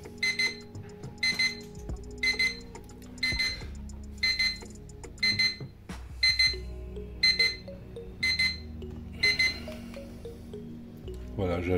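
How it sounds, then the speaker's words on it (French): An XREXS digital alarm clock beeps in regular bursts, about a dozen evenly spaced electronic chirps, with quiet talking and handling noises underneath. "Donc voilà, l'alarme sonne comme prévenu."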